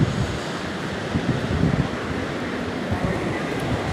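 Sea waves pound the shore during Typhoon Uwan, a loud continuous roar of surf and wind buffeting the microphone with no clear breaks, and no one speaks.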